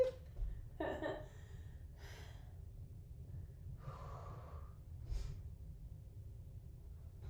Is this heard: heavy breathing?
yes